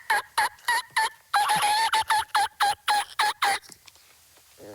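A turkey call imitated by a person using a latex diaphragm call held against the palate, about a dozen sharp, rhythmic yelps in quick succession, loud and close, trailing off into quiet.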